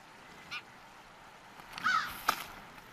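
Crows caw in a wild eagle-nesting habitat, a few scattered harsh calls at moderate distance, one short call early and a rougher cluster later over a faint outdoor background.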